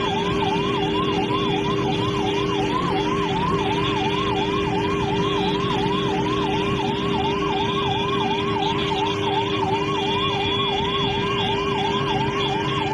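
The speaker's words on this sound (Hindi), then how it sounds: "एम्बुलेंस लगातार हॉर्न दिए जा रही है" Ambulance siren wailing steadily in a repeating up-and-down pattern behind a four-wheeler on a road in Kerala, loud and continuous with road noise underneath, no talk.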